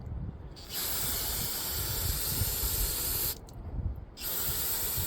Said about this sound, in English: just a spray on the outside, spray on the inside, and that's good